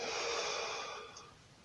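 Someone breathes out during a slow stretching exercise, a soft, airy exhale through the mouth that fades over about a second. It is close and quiet, with no speech.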